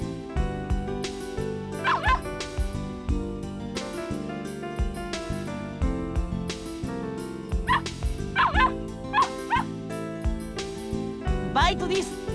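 A dog in a Japanese visual novel game yips and whimpers in short bursts over looping background music, with a few higher barks clustered near the end.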